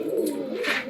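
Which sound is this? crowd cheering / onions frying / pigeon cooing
pigeon cooing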